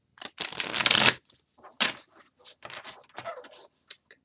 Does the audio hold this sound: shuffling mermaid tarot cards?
yes